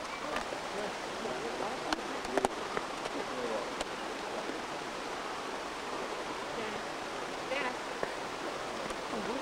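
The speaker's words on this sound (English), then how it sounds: "We're going up to the waterfall right now." Waimea Falls in Hawaii, a modest waterfall about 30 feet deep, gives a steady broadband rush of falling water, fairly faint and continuous, with a few brief clicks and knocks on top.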